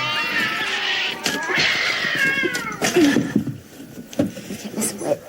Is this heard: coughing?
no